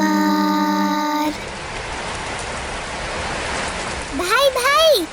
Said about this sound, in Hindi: देखिए कितनी जोर से बारिश हो रही है।